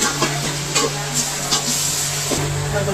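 Ginger and tomato stirred and sautéed in a hot pan for a simple chicken biryani, a steady close sizzle with soft scraping stir strokes every half second or so, no talk.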